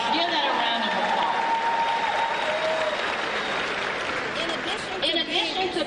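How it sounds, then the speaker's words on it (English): A commencement crowd applauds in a broad, steady burst of clapping that carries on for several seconds, with faint voices and tones mixed beneath it. "Give that a round of applause."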